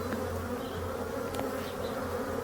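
Black bees swarming out around a hive on a March day after a cold spell, a dense, steady close-up buzz of many insects that carries on without a break.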